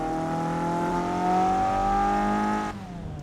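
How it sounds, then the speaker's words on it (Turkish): A Tofaş Doğan SLX engine in the racing game Assetto Corsa drones at high revs, the pitch rising slightly before dropping off near the end, loud and continuous. "Bu arabanın sesi biraz hoşuma gitmedi ya."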